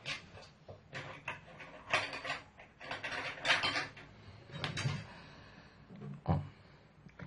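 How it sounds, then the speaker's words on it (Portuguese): A locksmith picks up a pointed, needle-like metal tool from among other tools, giving a run of close clattering metallic clicks and ratchety rattles in bursts, with no talking. "Eu vou pegar uma ferramenta de ponta para eu poder cortar."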